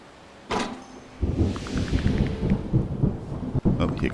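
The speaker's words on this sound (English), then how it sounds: "here comes the rain" Thunder cracks sharply in the Terra Nil video game, then steady rain settles in with a soft rising tone sequence and rumbles underneath, all without speech.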